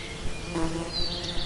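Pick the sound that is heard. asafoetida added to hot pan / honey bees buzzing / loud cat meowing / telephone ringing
honey bees buzzing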